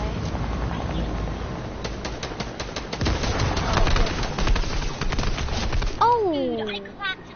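Bursts of assault rifle fire in a shooter video game, rapid rattling volleys throughout amid game effects and a rising whistle near the end, with people talking over the shooting.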